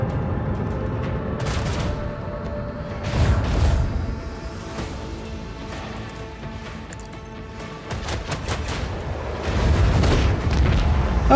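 Heavy macro cannon fire from a starship battle in the Rogue Trader video game: repeated deep, loud booms and rumbling blasts arrive in clustered volleys, with brief lulls between salvos.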